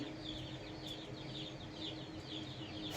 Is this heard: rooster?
yes